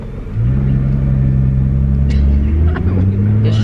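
Nissan GT-R R35 tuned to 650 wheel horsepower pulling hard from inside the cabin, a steady deep engine drone with a quick gear change partway through, and brief voices in the car.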